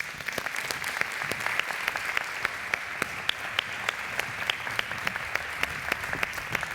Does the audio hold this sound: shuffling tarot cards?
no